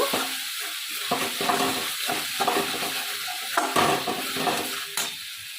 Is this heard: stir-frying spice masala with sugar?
yes